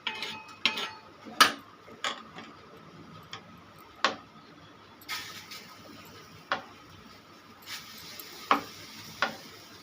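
Egg dosa cooking in a pan and lifted off with a spatula: a steady stream of light, sharp metallic taps and ticks at irregular intervals over a faint sizzle.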